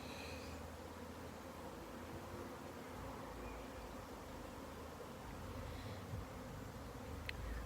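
Honeybees buzz around their hives on a sunny day as they forage for pollen. The hum is a steady, faint, continuous drone heard at a distance, with no voices over it.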